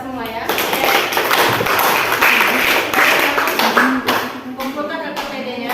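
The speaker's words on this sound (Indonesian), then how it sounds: "Tepuk tangan untuk kita semua ya." Students in an Arabic-language classroom applaud together, a dense clatter of claps and a few desk thumps filling most of the moment, mixed with the chatter of many voices.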